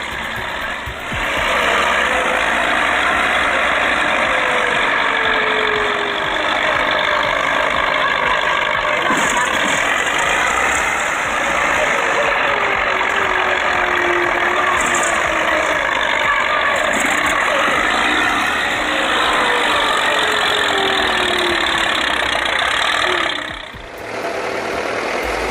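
Powerful tractor engines roar steadily and loudly in a head-to-head contest, a dense continuous drone with shifting pitch that stays near and drops off briefly close to the end.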